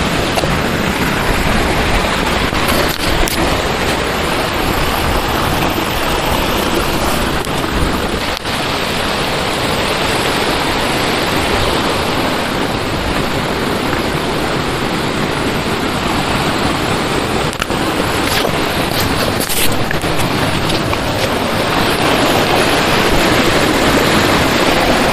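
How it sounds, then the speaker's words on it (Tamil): Water roars steadily at Karumparai falls in Kanyakumari, a tall waterfall on a private estate, giving a loud, continuous broadband rush that holds unbroken from start to finish with no voices. "இதான் அருவி கேட்டிங்களா?"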